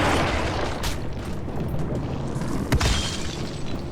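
A boss blows up in a video game with a heavy, rumbling explosion that fills the soundscape, followed by a couple of sharp bursts and a sustained roar of debris.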